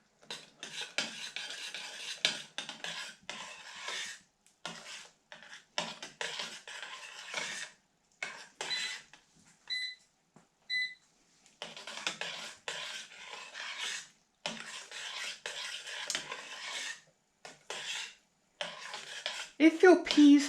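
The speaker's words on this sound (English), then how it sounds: "Apicius tells us to stir them, and that's how we turn them into a puree" Cooked peas are stirred into a puree in a pot, following a Roman recipe, with repeated scraping and rubbing strokes of a spoon, moderately close, broken by brief pauses and no talk.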